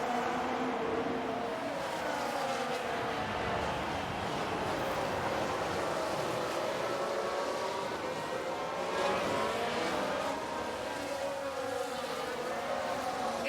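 Formula 1 cars launch off the grid at the Saudi Arabian Grand Prix in the F1 Manager 2022 game, a continuous dense roar of many engines blending into a sustained, even wash of racing noise.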